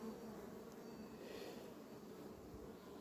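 Honeybees at a colony being readied for winter hum in a faint, steady, continuous buzz throughout, close but quiet, with no voices over it.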